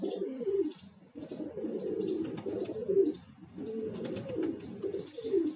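Pigeons coo repeatedly in soft, rolling phrases close by, several overlapping calls in steady bursts with faint chirps in the background.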